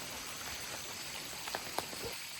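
Rain falling over a forest campsite during the rainy season, a steady soft wash of drops with a few sharper patters near the end, fairly quiet and continuous with no talking.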